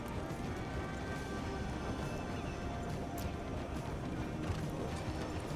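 Horse hooves galloping in the Red Dead Online video game, a fast, steady clip-clop drumming under faint background noise.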